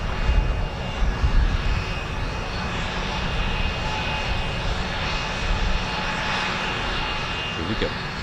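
Eurofighter Typhoon FGR4 jet at an air show beginning its departure, a continuous loud broadband engine roar with low rumble, heard at a distance, steady over the whole stretch.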